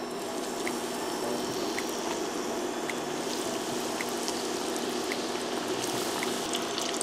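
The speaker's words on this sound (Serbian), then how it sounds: "I ovako pripremljene rolnice spuštam u vrelo ulje." Breaded rolls fry in hot oil with a steady, even sizzle and hiss that continues unbroken throughout, close and fairly quiet.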